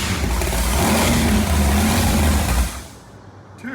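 A wrecked race boat's engine, just fired up, runs loud and rough with revving for a few seconds, then cuts off abruptly into near quiet, with no talk.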